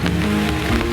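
Heavy rain pours down steadily as a dense, continuous hiss with a constant low rumble and no clear pauses.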